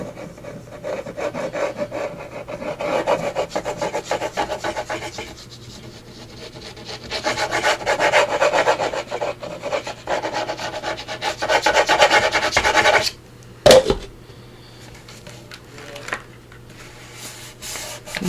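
Fingers press and rub down a glued paper envelope flap, making close, repeated scraping rubs in bursts. Quieter pauses separate the bursts, and a sharp knock comes near the end.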